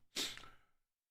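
A single short sneeze, sharp and breathy, bursting out and trailing off within about half a second, fairly quiet and alone with no talk around it.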